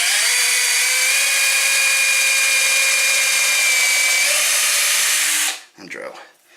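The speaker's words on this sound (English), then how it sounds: "And drill." A power drill whines steadily and loudly at close range as it bores into a rabbit hutch, running for about five seconds before stopping abruptly.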